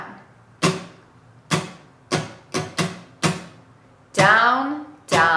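Guitar strumming in a down, down, up, up, down, down pattern for a beginner lesson on a song: a series of sharp strums at an uneven rhythm, close and loud, with the last two strokes ringing longer.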